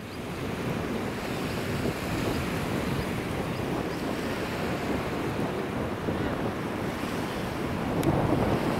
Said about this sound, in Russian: Вот он, выход к морю